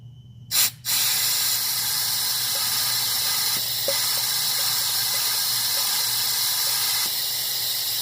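Air rushing through a powered Honda evap purge valve: a soft thump, then a steady, close, even hiss that runs without a break to the end.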